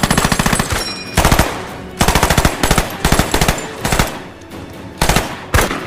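Machine-gun fire in a World War II battle with American soldiers, loud rapid bursts of automatic shots, each lasting about a second and repeating several times with short gaps between them.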